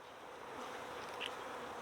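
Honey bees buzz softly at a hive, a faint steady hum that carries on without a break.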